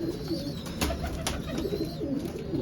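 Pigeons coo softly and repeatedly nearby, low throaty calls over a background of light rustling and a couple of sharp clicks.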